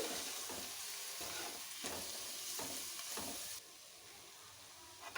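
Spices and green chillies fry in a pan for stuffed bitter gourd, sizzling steadily while a spoon scrapes through them in regular strokes about every half second. The sizzle quietens near the end.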